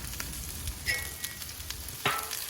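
Chicken teriyaki stir fry crackles and sizzles on a Blackstone flat-top griddle, a steady close fry broken by a few sharper scraping or stirring hits.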